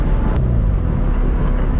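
A built turbocharged Mazda Miata making around 400 horsepower drones loudly and steadily up close under load, a thick low engine roar filling the cabin without a break and with no talk over it.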